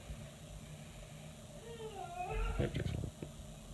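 A cat lets out a strange, wavering meow followed by a short burst of chirping, growling noises, faint against quiet background hiss.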